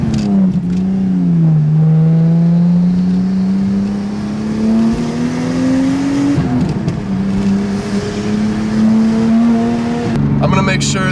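A Nissan Skyline R34 engine while driving, loud and close, its tone rising and falling through gear changes with a short lift around the middle and a sharp rev at the end.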